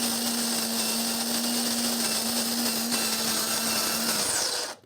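Cuisinart direct-drive burr coffee grinder running at a steady, loud motor whine with a constant hum, grinding fresh beans without pause before the motor cuts off at the end.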